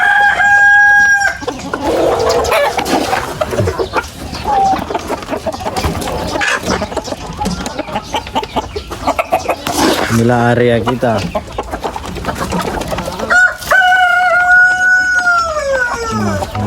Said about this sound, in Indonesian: Ini ayam-ayamnya.